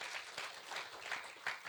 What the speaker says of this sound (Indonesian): Yang bangga sama Tuhan Yesus boleh kasih tepuk tangan yang meriah buat Tuhan.